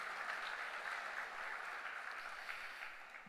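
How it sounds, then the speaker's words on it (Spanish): A church congregation applauds during a Spanish-language sermon, steady dense clapping throughout at moderate loudness with no talk over it. "Dele un fuerte aplauso."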